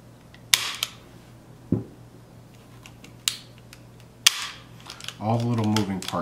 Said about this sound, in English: If I pull the trigger here, you can see them moving